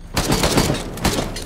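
Rapid single-tap weapon shots in the video game Risk of Rain 2, a quick run of close, loud bursts fired as fast as the trigger is tapped, with game sounds layered over them.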